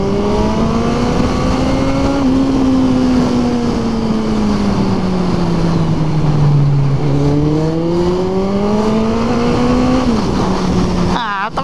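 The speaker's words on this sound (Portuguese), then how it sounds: "Viu que a motinha desse tamanho eu passo nos corredores, parece ninja." Small motorbike threading between lanes of traffic, its engine whining loud and close, pitch rising and falling with throttle changes, with a brief cut-off at the end.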